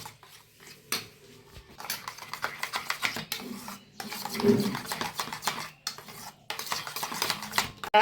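Spoon stirring a warm sweet yogurt mixture for gandharaj mishti doi in a bowl: steady clinks and scrapes against the bowl, close and moderately loud, with a louder burst of clattering midway.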